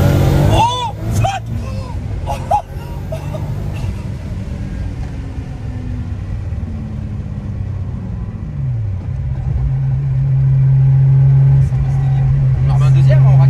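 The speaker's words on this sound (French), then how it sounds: "On remet un deuxième, on accélère." A 1200 hp VW Golf 4 pulls hard in second gear, its engine rising in pitch with a deep rumble, after a burst of sharp noise and voices at the start; the revs climb steadily and loudly toward the end.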